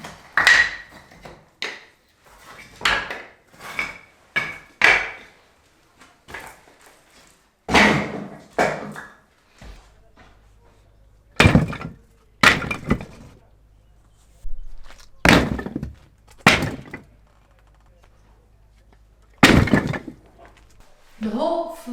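Old floor tiles tossed out of a window land in a box outside on a Portugal homestead, giving a series of sharp clattering thuds and knocks at irregular intervals, with quiet gaps between.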